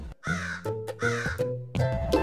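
A crow caws three times in close succession, loud and harsh with ringing tones, each call separated by short gaps.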